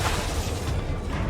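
A Confringo explosive spell in the Hogwarts Legacy video game goes off as a dense, loud, close burst of fiery crackling blast noise that rolls on briefly before easing.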